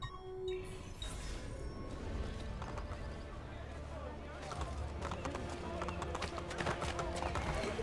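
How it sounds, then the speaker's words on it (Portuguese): Hooves clip-clop in a rapid rhythm as a horse gallops in Assassin's Creed Brotherhood Remastered, with clinks and a brief whinny, all under ongoing talk. "Eu gosto do meu cavalo porque ele é muito loucão, mano"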